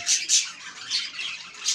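Pet budgerigars squawking in a cage: several short, harsh, high squawks in quick succession, close and moderately loud, with no voices.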